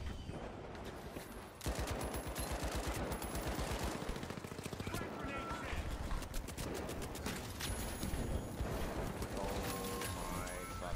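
Rapid sustained turret gunfire in the video game The Finals, a dense mechanical stream of shots hammering almost nonstop after a brief lead-in, with chaotic combat noise layered over it.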